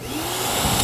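A vacuum cleaner plugged into 220 volts runs with its hose attached, a steady broadband whoosh of suction that stays loud and constant throughout, with no talking.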